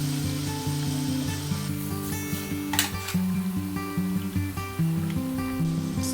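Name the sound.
tomato added to bacon sizzling in pan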